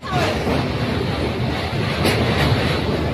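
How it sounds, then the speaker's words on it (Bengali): A passenger train running after leaving Howrah on its way to Digha, heard from inside a carriage as a steady, loud rumble and rushing noise with no clear speech. "যথা সময়ে হাওড়া থেকে ট্রেন ছেড়ে দিয়েছে দীঘার উদ্দেশ্যে"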